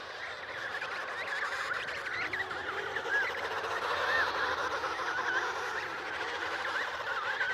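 Emperor penguins call across a crowded Antarctic colony on the winter sea ice, a dense continuous chorus of honking, trumpeting cries from many birds near and far with no voices.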